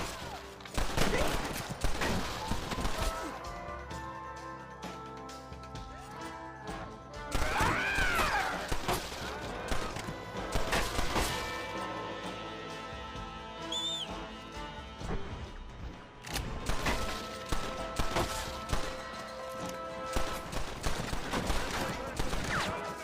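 Gunfire rattles through a shootout in the video game Red Dead Redemption, with loud, sharp shots and bursts repeating across the whole stretch, occasional crashes and a brief lull mixed in.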